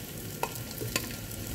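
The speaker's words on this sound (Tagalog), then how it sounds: "I-try po natin ang ating pagpiprito ng ating tokwa." Tofu frying in a nonstick pan makes a quiet, steady sizzle with a couple of small pops, heard close and alone.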